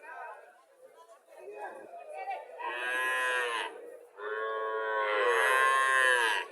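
A Rani Shankar dairy cow moos in two long, loud calls close by, with people chattering in the background before and between the lowing.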